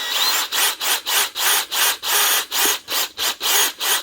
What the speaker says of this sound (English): Drilling forward, no problem.